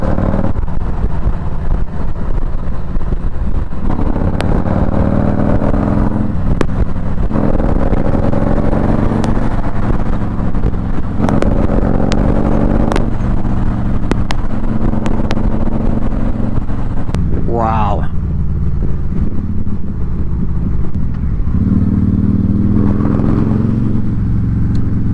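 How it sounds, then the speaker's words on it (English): Harley-Davidson Stage 2 107 engine with a torque cam, breathing through a Pro Pipe 2-into-1 exhaust, gives a loud, steady, deep rumble close by, with throttle swells that rise and fall across the whole stretch. "What a rumble. I mean, if you like the sound of the Pro Pipe 2-into-1 stock, then you gotta try with a Stage 2."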